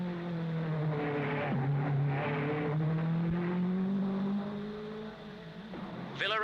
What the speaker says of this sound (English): Moss are well ahead of Ascari, who is lying second, with Trantignon's Ferrari lying third